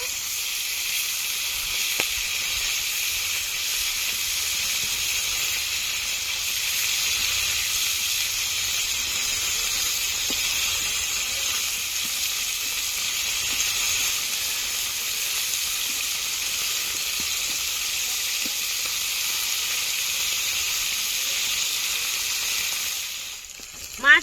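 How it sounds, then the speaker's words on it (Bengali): Steady, loud sizzling of bhola fish frying crisp in hot oil, a continuous bright crackle with no talking. "ভোলা মাছ একটু কড়া করেই ভাজতে হয়"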